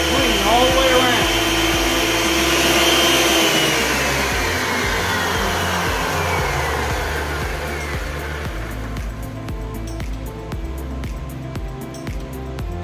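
A wood planer runs after cleaning and maintenance, whirring loudly up close with a steady motor whine that slowly falls in pitch as it spins down.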